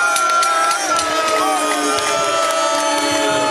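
At a wrestling show, the crowd reacts noisily and steadily to a count-out decision, with dense overlapping voices, shouts and whoops filling the hall.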